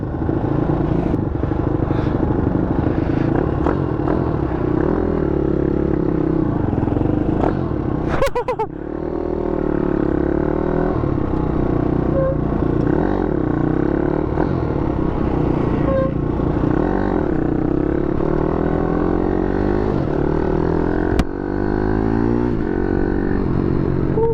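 An Ohvale GP-2 mini superbike on a first ride produces a constant, close engine drone from a rider's point of view. The pitch shifts briefly around one moment, then the engine keeps running steadily.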